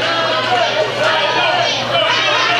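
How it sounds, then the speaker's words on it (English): A wrestling crowd in Gibsonville cheers for Robin at a CWF Mid-Atlantic WrestleJam show, a steady dense roar of voices and chatter filling the hall throughout. "Crowd here in Gibsonville cheering for Robin."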